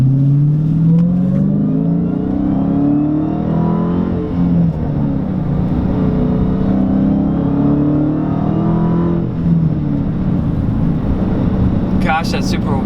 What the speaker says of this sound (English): that supercharger sounds freaking amazing in this car